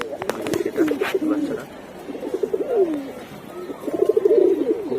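Pigeons in a loft cooing in repeated throaty, rolling phrases, close and fairly loud, with a few sharp knocks and rustles between the calls.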